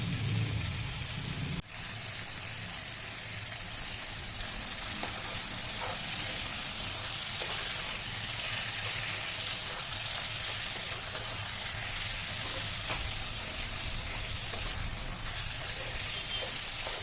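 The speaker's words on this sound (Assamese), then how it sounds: "মাংসখিনি ভাজোঁতেও সময় লাগিব।" Mutton fries with masala in a pan, a steady quiet sizzle with occasional faint crackles and a single knock near the start.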